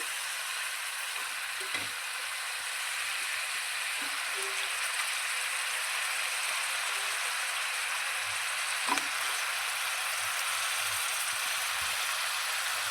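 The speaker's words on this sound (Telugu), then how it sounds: "ఇప్పుడు మనం ఇందులో వంకాయ ముక్కలు వేసేసుకుందామండి" Brinjal pieces fry in oil for a brinjal and chana dal curry, a continuous even sizzle holding steady throughout with occasional faint clinks and stirring underneath.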